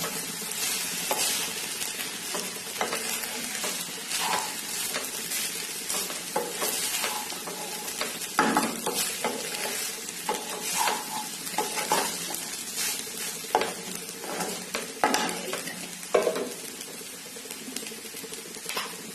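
Bengali-style vegetable fried rice is stirred in a pan with shahi garam masala powder, giving continuous scraping, tossing and crackling at close range that rises in a few louder scrapes, with no talking.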